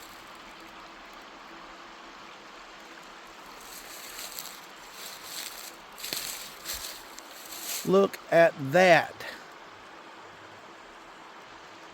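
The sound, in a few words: small creek flowing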